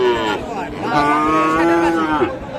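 Calves of Friesian and crossbred cattle at a livestock market call out in a long, clear, sustained moo that rises and falls before breaking off, close and loud against faint market noise.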